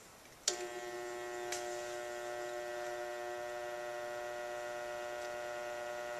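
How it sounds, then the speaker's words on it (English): A small electric fan plugged into an EGO Nexus Escape clicks on and settles into a steady, even electric hum with a bright buzzing tone, running continuously at low speed. "this is what the fan sounds like plugged into the Nexus Escape"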